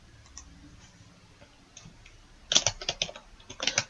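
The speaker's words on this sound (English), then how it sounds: "then I just need to type the name of the employee" Keys tapped on a computer keyboard to enter an employee's name, a quick cluster of crisp close clicks after a quiet stretch of low room noise.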